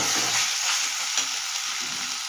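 Tomatoes hit a hot frying pan in a Bengali soybean and pea lentil dish, giving a steady, close, bright sizzle with faint stirring scrapes underneath.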